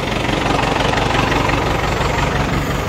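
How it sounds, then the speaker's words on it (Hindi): A tractor engine runs with a loud, steady, close rumbling drone and a faint vibrating knock, with no voices. "ट्रैक्टर जिहड़ा अंदर पहुँच चुका"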